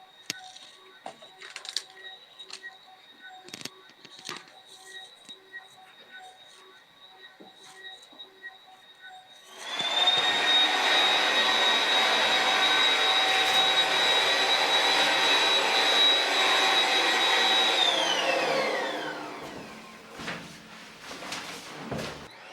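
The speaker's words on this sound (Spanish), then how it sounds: "con una aspiradora, puedes pedirle a alguien que la sostenga justo debajo de donde estás haciendo la perforación para que aspire todo el polvito" A vacuum cleaner held under a drilling spot to suck up drill dust switches on after scattered handling clicks, runs loud and steady for several seconds, then winds down with a falling whine.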